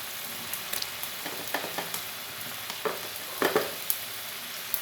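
Paneer fries in ghee in a pan, close up, with a steady sizzle broken by frequent sharp pops and spatters.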